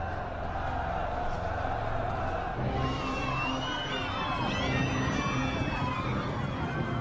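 A crowd cheers and shouts at the death of a barbarian general in dramatized ancient Ravenna, a continuous roar of many voices with rising, wavering shouts that grow louder partway through.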